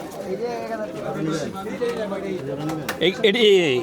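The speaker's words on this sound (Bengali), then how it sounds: "এই যে খাঁচা ভর্তি আরও এক ভাই কিছু কবুতর নিয়ে আসছে" Caged pigeons coo softly in a cluster at a pigeon market in Bangladesh, under busy speech from nearby people, with murmured chatter filling the background.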